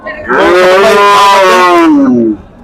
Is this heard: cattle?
yes